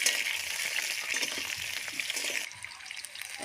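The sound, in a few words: new potatoes frying in a pan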